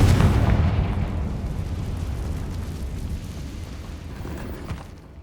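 A Confringo spell blast in the video game Hogwarts Legacy erupts in a single loud, booming explosion that rumbles and slowly fades over several seconds.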